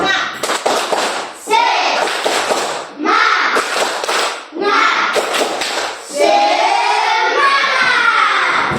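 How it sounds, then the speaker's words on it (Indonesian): A primary school class performs the rhythmic tepuk semangat clapping chant, with bursts of patterned hand claps between children's chanted voices that rise in pitch, loud and close in the classroom. "Kita sama-sama tepuk semangat ya?"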